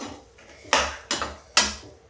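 A metal lid is set onto a cooking pot over a low gas flame, making three sharp metallic clanks spaced about half a second apart, each ringing briefly.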